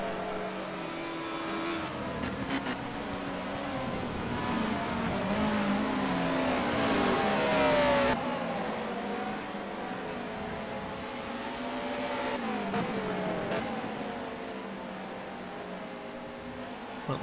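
Super touring race cars of the 1996 BTCC lapping Brands Hatch Indy: loud, sustained engine roar with rising and falling revs as several cars accelerate, brake and pass close by, continuing without pause.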